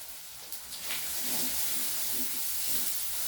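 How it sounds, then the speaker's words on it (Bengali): Ground spices, red chilli powder among them, fry in a pan for masala chicken. A soft, steady hiss and sizzle builds after a couple of faint clinks and stays fairly quiet and even, with nobody talking. "মশলাগুলো আমার খুব সুন্দরভাবে ভাজা হয়ে গেছে।"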